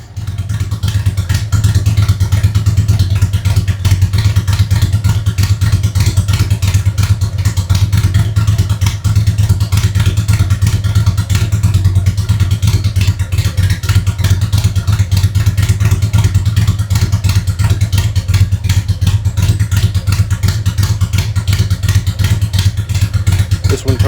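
A Harley-Davidson Tri Glide trike with a stage 2 setup, ThunderMax tuner, Rinehart headers and mufflers idles steadily and loudly up close, a deep rhythmic rumble with mechanical clatter throughout and no talking.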